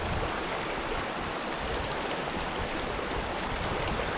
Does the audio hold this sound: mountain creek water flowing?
yes